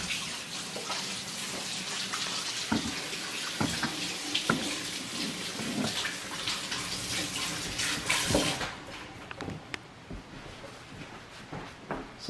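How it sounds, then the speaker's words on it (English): Tap water running into a sink while hands are rubbed and rinsed under the stream, a continuous splashing flow with uneven bursts and knocks, then the tap shuts off and a few drips and small sounds remain. "while I wash my hands."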